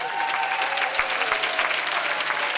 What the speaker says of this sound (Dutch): En graag ook een applaus voor zijn tegenstander, de man in de blauwe hoek, Michael Escobar.